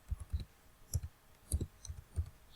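Keys tap on a computer keyboard while a city name is typed into an Excel chart title, a sparse run of about eight soft, close clicks in an uneven rhythm with no voice over them.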